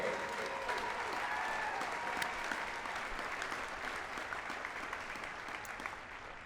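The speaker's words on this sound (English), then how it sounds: "Let's give our family members a big round of applause" Steady audience applause at a military basic training graduation, a broad, distant-sounding wash of many hands that slowly tapers off, with faint cheering voices underneath.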